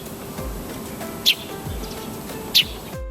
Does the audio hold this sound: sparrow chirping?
yes